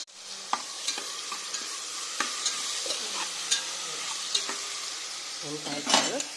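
Tempering of onion, green chilli, mustard seeds and cumin sizzling in hot oil for a quick palya, with a steady frying hiss and repeated sharp scrapes and clinks of a spoon stirring in the pan.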